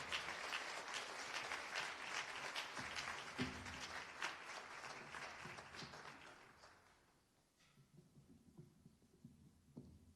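Audience at a Martin Luther King Jr. breakfast event applauds in a sustained round of clapping that fades out after about seven seconds, leaving a quieter room with scattered sounds.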